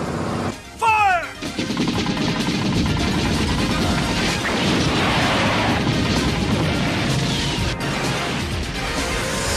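Loud anime gunfire sound effects during a police chase form a dense, continuous barrage of crashing shots and impacts, preceded by brief whistling tones.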